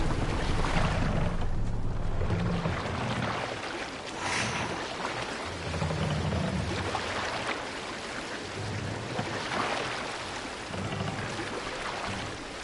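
A Viking longship at sea in Assassin's Creed Valhalla, with rushing water, wind and rumbling waves surging in slow swells, broad and loud with no clear speech.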